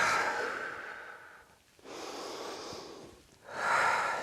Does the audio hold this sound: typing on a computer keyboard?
no